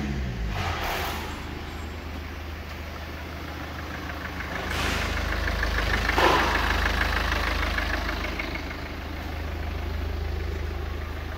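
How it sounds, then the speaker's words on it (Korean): Scrapped BMW 320d diesel car with B47 engine idling after a start, a steady low drone with mild swells, no talk. "BMW 320D 폐차 시동 영상."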